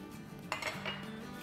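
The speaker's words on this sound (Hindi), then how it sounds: "और अब इसे हम अच्छे से मिला लेंगे।" Seekh kabab spices such as red chili powder, turmeric and salt being mixed in a bowl, giving a short, quiet clink of utensil against dish with a light scrape, close and alone without talk.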